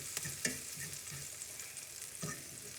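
Leftover corned beef hash with onion slices fries in a pan, a gentle continuous sizzle with a few spatula knocks and scrapes, close and quiet with no voices.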